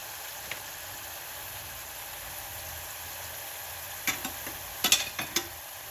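Ginger garlic paste and turmeric for mutton curry are mixed in a pan: a quiet, low background gives way near the end to a short cluster of spoon scrapes and taps.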